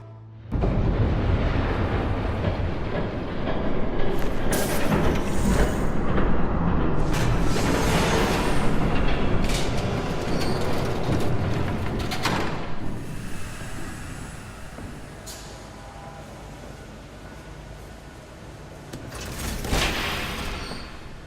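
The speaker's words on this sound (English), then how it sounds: "There's a train coming." A train rumbling past in a Batman episodic video game, a steady loud roar with metallic clanks and hissing that swells, fades slightly, then surges again near the end, continuous throughout.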